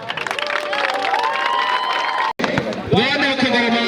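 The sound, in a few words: applause and cheering at an award ceremony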